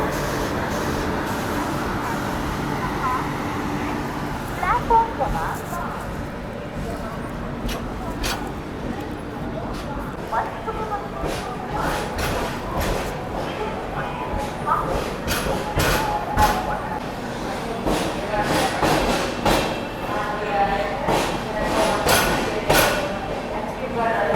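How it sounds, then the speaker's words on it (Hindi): A Humsafar Express train rolls into Vijayawada Junction with rumbling wheels, clanks and air-brake hisses, while someone talks over it throughout. "चलो अभी अपनी ट्रेन फाइनली पहुंच रही है विजयवाड़ा जंक्शन।"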